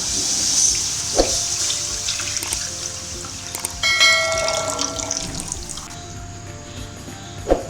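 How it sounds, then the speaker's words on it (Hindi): Water pours and splashes into a metal wok for cooking vermicelli, a running trickle with a few clanks of metal, heard close with no talking. "ये देखें पानी लेना है, इसको कढ़ाई में डाल देना है"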